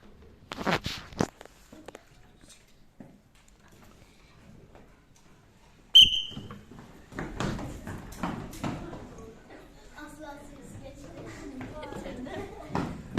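A single short, sharp whistle blast starts a classroom sock-finding race game, followed by children bustling, footsteps and voices talking.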